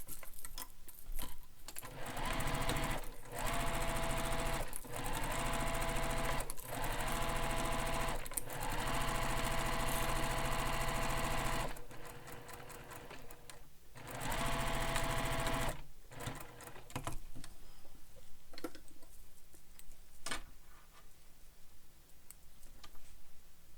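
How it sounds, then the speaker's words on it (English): A sewing machine stitches the edge of a bag pocket, running in close, loud bursts broken by short pauses, then stopping and leaving quieter handling sounds toward the end. "now we're going to sew this edge using the seam allowance given in the pattern"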